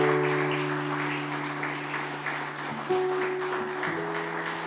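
A church congregation applauding during a Christmas service, a moderate wash of clapping over a steady sustained organ or keyboard tone that holds throughout, gradually easing off.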